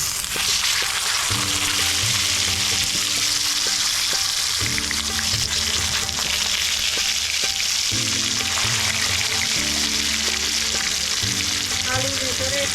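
Potatoes fry in a pan with salt and turmeric, a steady close sizzle running throughout with a few brief clinks of stirring and faint tonal hum in the background.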